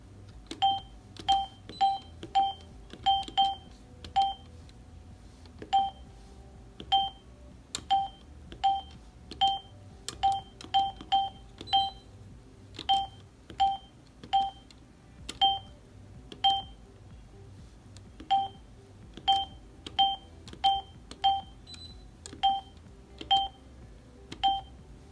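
A Hyosung ATM keypad gives short, crisp electronic beeps as encryption code digits are keyed in, dozens of evenly pitched tones in quick irregular bursts with brief pauses, close and clear over a low background hum.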